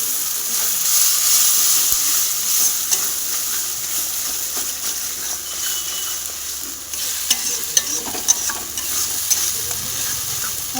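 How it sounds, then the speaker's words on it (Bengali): Masala spice paste thinned with a little water frying and being stirred in a pan, a steady close sizzle with scraping spoon strokes throughout, no talk. "মশলাটাকে ভালো করে কষে নেব।"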